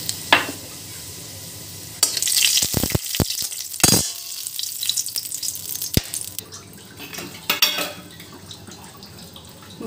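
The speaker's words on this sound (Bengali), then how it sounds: "এবার আবার একটু তেল দিলাম আর তেজপাতা দেবো একটু ফোড়ন, আর দেবো গোটা গরম মশলা।" Bay leaf and whole garam masala hit hot oil in a pan, bursting into a loud sizzle with stirring clatter and scraping, then settling into steady frying crackle with no talking.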